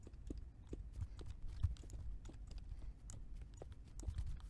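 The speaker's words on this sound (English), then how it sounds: "Don't like hearing your footsteps" Footsteps in the Minecraft video game, a quick run of light, soft taps in an uneven rhythm, close and quiet with no talking.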